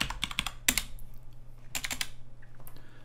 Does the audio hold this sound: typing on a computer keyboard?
yes